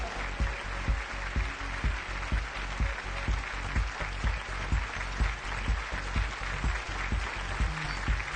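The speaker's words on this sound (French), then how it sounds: "Applaudissez bien fort." An audience applauds at a launch event for a new line of body makeup. The clapping is steady and dense, with a fairly even rhythm throughout and no talk over it.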